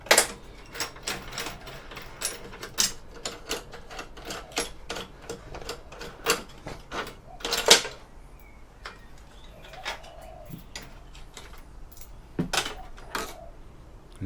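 Metal bolts being worked loose and removed from a scrap variable speed drive, a run of sharp clanking and rattling hits close by, irregular and alone, with a few quieter pauses between bursts.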